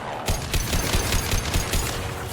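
Rapid automatic gunfire from the video game Mass Effect 2 rattles on continuously and loudly in dense, overlapping bursts, with no talking.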